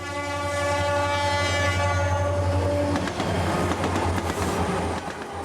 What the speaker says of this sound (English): The trains still come to Elmdale, but they don't hang around.